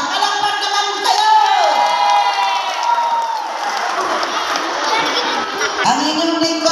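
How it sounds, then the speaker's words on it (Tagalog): Lively crowd at a barangay assembly in Lumbreras, with cheering, whooping and children shouting in a dense, continuous roar. Voices carry over the noise throughout, and a pitched shout rises near the end. "Palakpak naman kayo!"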